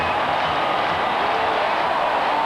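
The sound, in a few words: stadium crowd cheering after kickoff return touchdown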